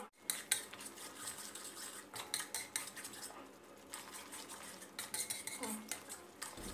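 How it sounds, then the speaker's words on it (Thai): Shrimp bucket sauce being stir-fried down until thick brings repeated scraping and clinking of a metal spatula against the pan, in irregular bursts over a low background. "ให้เราผัดส่วนผสมน้ำซอสกุ้งถังเรานะครับให้เขางวดและเข้มข้นเลยนะครับ"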